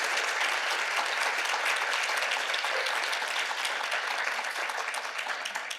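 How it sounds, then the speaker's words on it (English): Steady, full applause from a conference audience at a higher education climate leadership summit, dense and even for several seconds before tapering slightly. "If I could get a round of applause for Dina."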